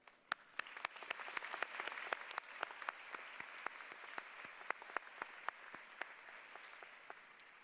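Applause from a large crowd at a university graduate commencement, a fairly faint, distant patter of many clapping hands with sharp individual claps standing out, steady for several seconds.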